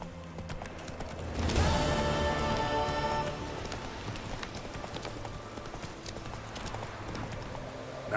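Roach, a horse in The Witcher 3, sets off at a gallop with steady rhythmic hoof clip-clops over a soft patter like rain, fairly close and continuous.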